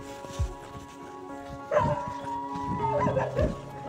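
Several dogs barking and yelping near a roadside in Himachal Pradesh, with bursts of overlapping barks growing louder in the second half over a steady background hum.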